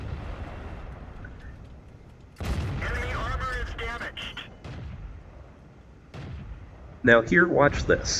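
Tank cannon fire in World of Tanks, with a sharp blast around the middle and another burst near the end, set against steady game rumble while someone talks over much of it.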